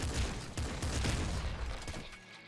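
A grenade launcher explosion in the game Nuclear Throne: loud, dense crackling blasts with a rough, noisy rumble that cut off abruptly after about two seconds.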